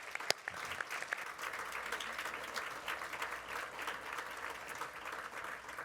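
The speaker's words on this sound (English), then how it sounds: "Please give Phil a round of applause." Audience applause at the National Governors Association 2022 summer meeting, following the election of New Jersey's governor as chair: steady, moderately distant clapping from a large crowd lasting the whole stretch, with a single sharp knock near the start.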